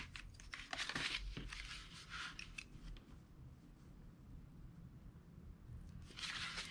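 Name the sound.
trimming off excess washi tape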